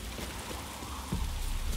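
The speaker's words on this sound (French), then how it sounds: "vu qu'il pleut" Rain falls in The Witcher 3 video game as a soft, even patter with faint hiss, steady and low in level, with no voices over it.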